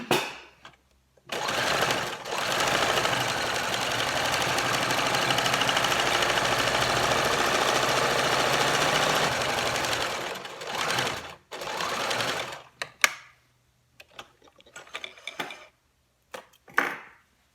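A sewing machine stitches fabric for a chef's hat, running in a steady, close whirring stretch for about nine seconds, then in a few short bursts with quiet gaps between them.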